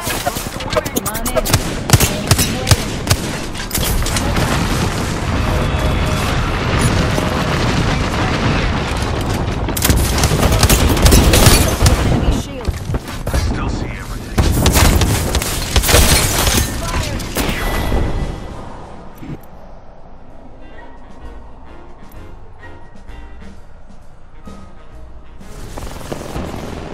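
Dense gunfire and blasts from Apex Legends, playing Bangalore during the Winter Express mode: rapid automatic bursts and booms fill the first eighteen seconds, loud and close, before dropping to quieter background game sound.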